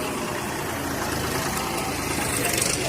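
A 2005 Farmtrac 60 tractor idles at the Moga tractor market in Punjab, giving a steady, rumbling engine drone with a busy, noisy outdoor background.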